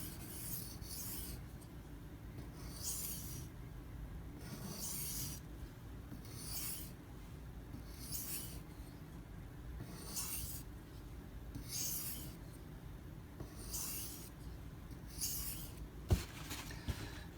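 A Benchmade 943 knife edge is stroked across a Haidu silicon carbide stone in regular rhythmic passes, about one every second and a half, each a soft close rasping swish, quiet and without talk.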